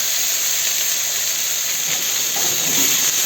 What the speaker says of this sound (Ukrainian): гриби трошки підсмажувати